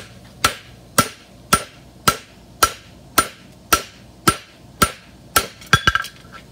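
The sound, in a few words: hammer fullering metal on anvil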